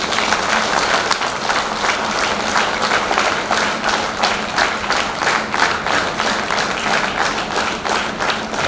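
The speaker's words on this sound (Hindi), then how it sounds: "तालियों की गड़गड़ाहट के साथ आप सभी लोग लानी जी को 75वें जन्मदिन की शुभकामनाएं दें।" An audience applauds at a 75th birthday celebration, sustained dense clapping from a crowd that carries on steadily for several seconds, fairly loud and unbroken.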